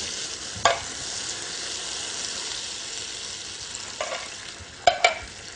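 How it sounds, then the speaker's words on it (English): Canned chopped peeled tomatoes tip into a hot pan, giving a steady sizzle with brief louder bursts of stirring or scraping near the start and end, close and alone. "Then add a couple of cans of chopped peeled tomatoes"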